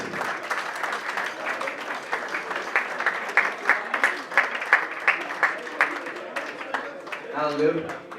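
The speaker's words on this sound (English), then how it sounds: "Now the applause, please." Crowd applause at a boxing bout after the winner is announced, steady dense clapping with sharp individual claps standing out, lasting about seven seconds before a voice begins speaking.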